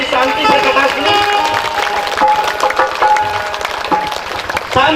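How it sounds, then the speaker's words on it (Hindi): Audience clapping steadily throughout at a Hindu religious discourse on the Shiv Mahapuran, a dense, loud wash of applause that fills the whole stretch without a break. "एक बार अपने लिए ताली बजाइए"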